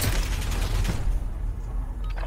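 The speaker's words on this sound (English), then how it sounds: "All I hear right now is just gunfire." Gunfire in the Warzone video game, a burst of loud rapid shots with sharp mechanical clatter heard through a headset, fading into quieter background noise after about a second.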